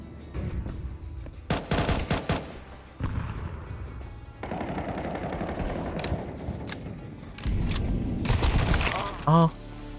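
MP9 submachine gun fire in a shooter video game, rapid close bursts of automatic shots in several volleys, loud over game sounds with brief talk.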